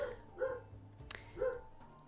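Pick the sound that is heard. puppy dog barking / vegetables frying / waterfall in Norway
puppy dog barking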